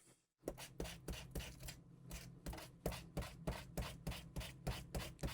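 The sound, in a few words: sanding with a sanding disc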